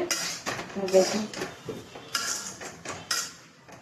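Taro and dried fish curry being stirred in a pan, a series of clanking spoon-on-metal scrapes and knocks in an irregular rhythm, close by.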